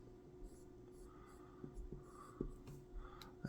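A stylus scratches lightly across the glass screen of a Samsung Galaxy Tab S8 Ultra in short, faint strokes, heard close and quiet over a low background hum.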